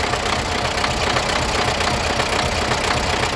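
A D-240 diesel tractor engine runs after its injection timing has been set, with a steady, close, rapid knocking idle and a constant vibrating rumble and no talk.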